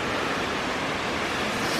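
A waterfall in the southern Black Forest gives off a steady, broad rushing roar, continuous and fairly near, with no voices.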